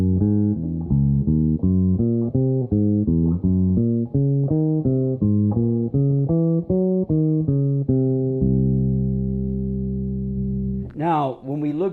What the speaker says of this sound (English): the way I'm going to do it is I'm going to send up one triad and then descend back down